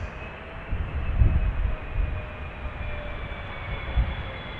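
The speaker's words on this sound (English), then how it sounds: "The 777-300 Qatar arriving from Doha" A Qatar Airways Boeing 777-300 arriving at Amsterdam Schiphol from Doha produces a low, steady engine rumble with a faint high whine, heard from a distance and slowly shifting over a few seconds.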